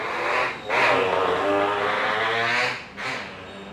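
Loud motorbike engine revving on a street, a continuous roaring drone that surges and dips twice, close and without talk.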